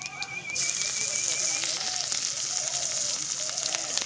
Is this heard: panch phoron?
yes